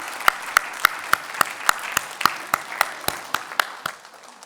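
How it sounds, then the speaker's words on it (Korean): A church congregation claps in celebration during a Sunday service, a short burst of loud, evenly spaced claps that thins and fades toward the end, with no talking over it. "우리 축하와 격려의 박수 보냈으면 좋겠습니다."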